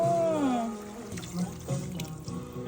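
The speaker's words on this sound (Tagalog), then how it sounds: "Dagdagan natin ang tubig." Water is poured into a boiling pot of chicken stewed with tomatoes. A splashing pour starts strong, then thins into softer gurgles and drips as it tapers off.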